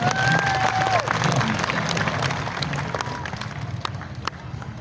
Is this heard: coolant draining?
no